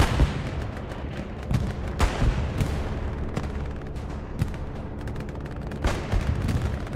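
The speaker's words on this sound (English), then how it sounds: "Bombing run is also going down for Legion." Bombing-run explosions in the World War II shooter Hell Let Loose on the Hurtgen Forest map, a dense barrage of booming blasts and cracking gunfire rolling continuously with sharp impacts scattered throughout.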